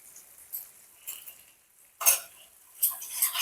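Spices stirred together in a pan while making a soybean kofta curry, with a few scraping and clinking strokes of a metal spoon against the pan, close by and separated by short pauses.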